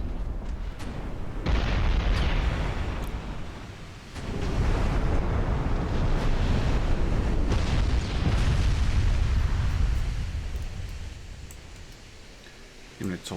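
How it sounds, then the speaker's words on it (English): Heavy shell hits burst against the battleship Collingwood in a naval warfare game, a long run of loud, rumbling explosions that swell, drop briefly, then roll on and fade, with a voice talking over parts of it. "Oh, a series of nasty hits on the Collingwood there."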